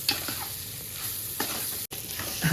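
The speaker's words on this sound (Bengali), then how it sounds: "চালটা আমার ভাজা হয়ে গেছে" Rice sizzles and crackles steadily in a hot pan, with a few scraping stirs, close and fairly loud, frying for Bengali muri ghonto with fish heads.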